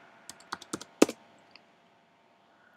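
A password is typed on a computer keyboard during a login: a quick burst of about eight close key clicks, then silence and one final click, with no voices.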